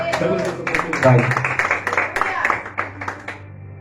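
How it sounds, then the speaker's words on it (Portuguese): A church congregation applauds in quick, uneven rhythmic claps over a sustained background of voices and music, loud at first and tapering toward the end. "Aplaude o Senhor essa noite."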